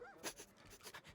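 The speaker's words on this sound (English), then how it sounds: "There's another dog in here." A dog pants softly in Divinity: Original Sin II, a few quick breathy huffs over roughly a second, faint and with no talking.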